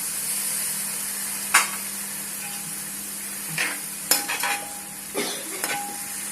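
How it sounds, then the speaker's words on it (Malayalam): A pan of beef stew simmers with a soft sizzle while a spoon scrapes and stirs in a few scattered strokes, close by and fairly quiet. "ഇളക്കി ഉടയാത്ത രീതിയിൽ ഇളക്കി കൊടുക്കും."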